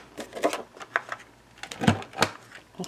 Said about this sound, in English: And then I corner round the edges.